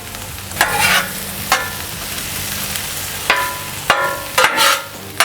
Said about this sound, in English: So I've got these peppers cooking here